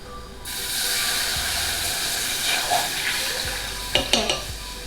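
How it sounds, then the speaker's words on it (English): Milk is stirred into a hot flour roux in a pan, making a steady sizzling hiss with soft scraping, followed near the end by a few sharp clinks of the utensil. "Now I'm gonna add in my milk."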